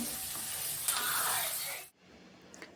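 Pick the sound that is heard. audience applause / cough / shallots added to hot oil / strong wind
shallots added to hot oil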